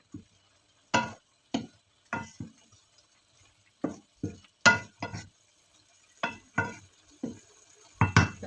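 Soup being stirred in a pot with vegetables and broth, heard as a series of close, short scraping and clinking strokes in an irregular rhythm, separated by near silence, with no voices.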